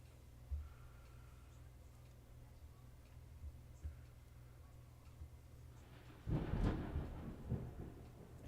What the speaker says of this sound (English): And that's thunder you hear in the background.